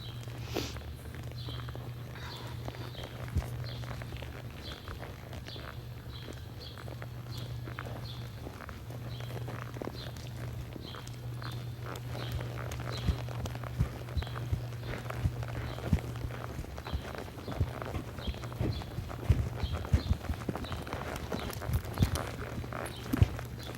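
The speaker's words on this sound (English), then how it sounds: "I do that a lot on all the colts, just teaching them to stay relaxed and to lope their circles" Hooves of a young colt loping circles around barrels in an arena, a steady muffled rhythmic drumming that continues throughout over a low constant hum, growing slightly louder and more uneven toward the end.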